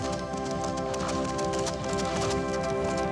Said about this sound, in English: Isn't that a horse I hear?